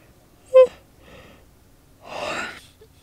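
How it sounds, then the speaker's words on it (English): A person yawns at bedtime, with a brief breathy catch followed by a longer soft, airy exhale, close and quiet in an otherwise silent room. "yawn, yawn, yawn."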